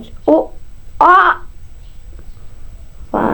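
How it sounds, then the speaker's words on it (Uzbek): A few short, harsh bird calls from the video game Minecraft sound out, separated by pauses, over a quiet background. "Qushlar saylashyapti"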